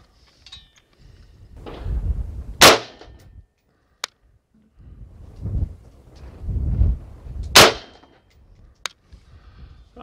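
Two sharp, loud rifle shots from a Tavor bullpup fitted with a Schmidt & Bender scope, firing 62 gr Barnes TTSX bullets at a 100-yard target, each crack standing out over ambient rumble, plus a few fainter clicks and handling noises.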